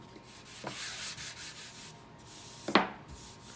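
Hand sanding across the primed surface of a homemade speaker enclosure: a soft, quiet rubbing stroke early on, then a sharper, louder scrape near the end, with no talking.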